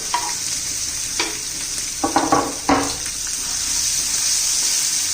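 Finely chopped onion hitting hot oil with ginger-garlic in a pan, a steady close sizzle broken by a few sharp stirring scrapes, no voices.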